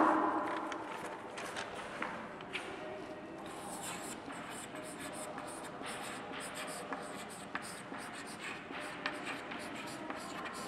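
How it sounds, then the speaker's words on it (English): Pen or pencil writing on paper during a lesson on seasonal winds, a steady scratchy scribble with small taps, close by, heard alone without talk. "let me write it down"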